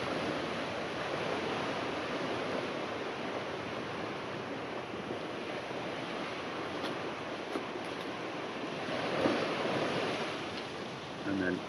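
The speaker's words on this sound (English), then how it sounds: "So we've got a gentle breeze coming in from the sea, so it should all blow that way." A gentle sea breeze blows steadily across an outdoor spot, producing a broad, continuous wind rush with faint surf-like texture and occasional soft microphone buffeting, with no voices present.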